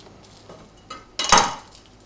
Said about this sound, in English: I'm just going to lay on the flat side of a knife and I'm just going to press on each clove